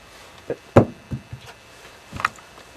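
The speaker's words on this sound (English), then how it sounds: "dropping it won't set it off" A stick of dynamite, still three-quarters nitroglycerin, dropped onto a hard surface several times: a handful of dull, woody knocks spaced irregularly, one louder thud among them, with quiet pauses between.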